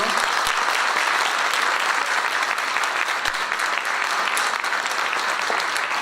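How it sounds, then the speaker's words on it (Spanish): Audience at a talk giving a sustained round of dense, even applause that fills the whole stretch, close and loud with no talk over it. "Un gran aplauso para el padre Fernando."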